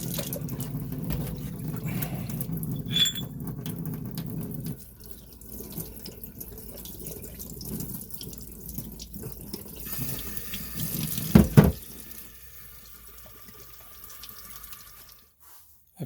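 Blohm grinding hub parts rinsed under a running tap, steady water splashing into a sink for several seconds, then quieter trickling and drips with a brief louder splash near the end.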